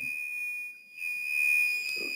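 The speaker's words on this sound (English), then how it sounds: "then I got my alarm going off too" An alarm sounds during a county board of commissioners meeting. It is a steady, high electronic tone that dips briefly, then keeps going, fairly close and with no talk over it.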